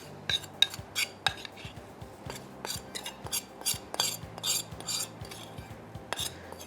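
A spoon works a caramel apple mixture around a bowl, giving quiet, irregular clinks and scrapes of metal against the dish, scattered unevenly across several seconds.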